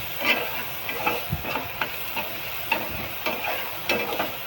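Onion and tomato fry in a pan for a dry brinjal-and-potato bhaji, stirred with regular spatula scrapes about every half second over a steady close hiss.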